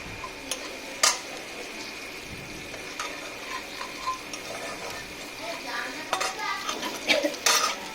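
Onions and spinach are stirred with spices in a pan with irregular scraping and clinking of a utensil, under a soft, steady sizzle.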